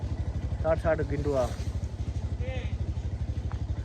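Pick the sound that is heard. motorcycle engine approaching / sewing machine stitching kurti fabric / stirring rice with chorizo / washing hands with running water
motorcycle engine approaching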